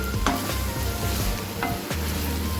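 Soya chunks for a pepper fry stirred in a pan as the water cooks off, continuous loud sizzling with rhythmic scraping strokes of a spoon, a couple of sharper clacks against the pan, no talking.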